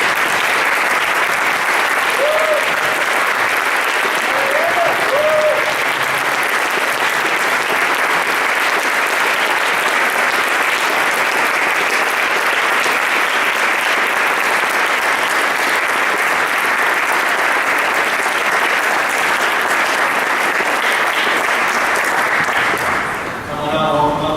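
Loud, sustained applause from a standing university audience welcoming two debate speakers, a dense steady wash of clapping that continues for over twenty seconds, with a brief voice early on, then fades abruptly at the end.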